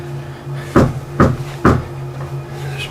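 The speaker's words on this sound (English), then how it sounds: "There's been someone knocking at my front door for the last 10 minutes or so, and they haven't stopped knocking." Three loud, evenly spaced knocks on a front door at night, heavy and close, followed by quiet.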